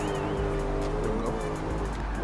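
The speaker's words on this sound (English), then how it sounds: "Look at that, all that wheel spin right there." In the video game Forza Horizon 4, a 1,074 hp Shelby GT350R build spins its wheels, giving a continuous loud engine roar with tyre noise for a couple of seconds.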